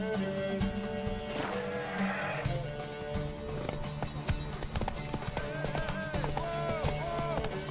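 Rhythmic horse hoofbeats clip-clop under busy game sounds and music in The Witcher 3: Wild Hunt, with a voice speaking over them and a brief whinny-like cry early on.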